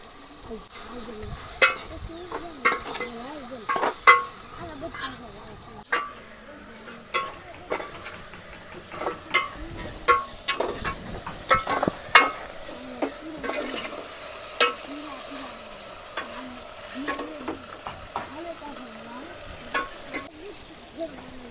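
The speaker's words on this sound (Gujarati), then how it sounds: "પછી આપણે ડુંગળી જે હતી એ પણ નાખી દઈશું ટમેટા નાખી દઈશું" Onions and tomatoes frying in a village kitchen pan while being stirred, with repeated scraping strokes and clanks over a soft sizzle, the stirring rhythmic and close throughout.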